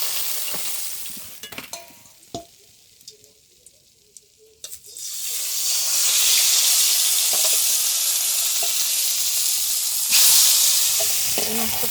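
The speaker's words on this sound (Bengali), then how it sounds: "মশলাটাও ভাজা হয়ে গেল সব" Fish and spice paste fry in a pan in a Sundarbans village kitchen, a steady loud sizzle taking over partway through after quieter clinks and stirring, with no talk.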